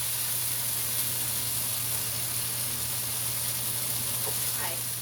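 Onions and peas sautéing in a pan give off a steady, even sizzle and hiss throughout, with faint stirring scrapes near the end.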